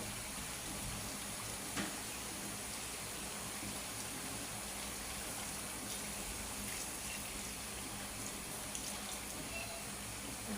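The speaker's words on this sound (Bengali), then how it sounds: "এখন আমি গরম পানি দিয়ে দেবো" Hot water poured into spicy chicken curry in a pot, a continuous soft gushing and bubbling stream, fairly faint and steady throughout with no talk.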